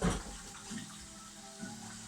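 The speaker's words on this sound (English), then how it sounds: "Just wash my hands." Tap water runs steadily into a kitchen sink while hands are washed beneath it, a soft continuous splashing with faint bumps, close and alone, after making pizza dough with olive oil.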